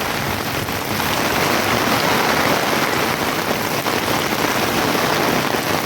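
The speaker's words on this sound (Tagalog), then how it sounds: "tingnan nyo ang grabe ang lakas ng ulan." Heavy rain pours hard onto surfaces in a dense, constant hiss while wind gusts through it, loud and close throughout, with no voices.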